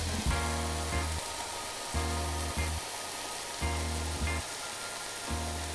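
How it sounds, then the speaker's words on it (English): Mushrooms pressed down sizzling on a hot grill, swelling in short bursts, roughly four surges a second or so apart, broadband hiss over a low steady hum. "you'll hear the sizzle"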